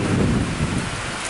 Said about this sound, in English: Freaking rain.